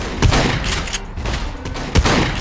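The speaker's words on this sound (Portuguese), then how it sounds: "Dá um tiro no robô." Rapid gunfire from the survival game Scum rattles in loud close bursts as shots are fired at a robot, with a sharp heavy report near the start and another near the end.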